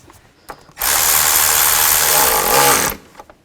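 A power driver whirs steadily for about two seconds, loud and close, while tightening a worm clamp on the air intake of a 2000-2006 Chevy Tahoe, with faint clicks before and after.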